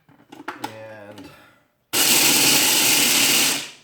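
A machine, likely a blender or food processor, lightly crushes chocolate chips for peanut butter chocolate chip brown sugar cookies, a loud steady whirring roar lasting about two seconds after brief kitchen clatter and talk.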